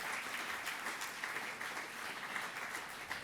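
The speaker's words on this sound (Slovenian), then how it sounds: "A jim še enkrat zaploskamo" Audience applause fills a ceremonial academic assembly marking a university's 30th anniversary, a steady dense crowd clapping sustained throughout without a break.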